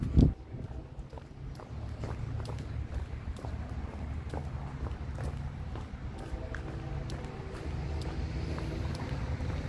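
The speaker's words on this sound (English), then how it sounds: "Definitely sounds like an EMD." A solo CSX EMD SD40-3 diesel locomotive, running long hood forward on the Old Main Line, approaches as a steady low engine rumble that stays fairly distant, with wind buffeting the microphone throughout and no one speaking.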